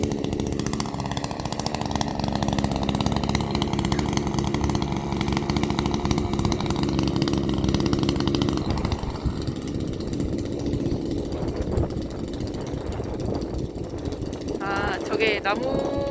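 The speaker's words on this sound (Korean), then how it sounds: "이런 거는 다 이제 전기톱으로 다 직접 자르시고 계십니다" A chainsaw cuts large logs into firewood outdoors. Its loud, buzzing engine whine runs steadily, then eases toward a lower idle partway through, with faint voices heard in the background.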